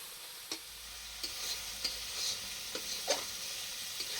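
Spices with turmeric, chilli and coriander paste fry with tomatoes in a pan, a quiet steady sizzle broken by a handful of sharp stirring scrapes and clicks spaced about a second apart.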